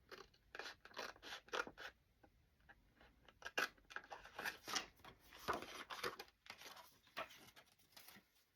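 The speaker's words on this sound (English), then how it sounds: "I can't cut straight with a pair of scissors" Scissors snip and cut through paper or fabric in a steady run of close, crisp strokes with brief pauses between them, no voices heard.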